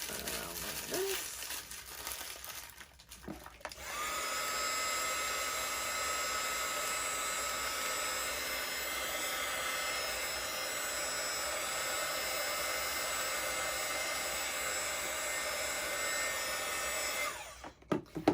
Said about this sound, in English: it's a heat gun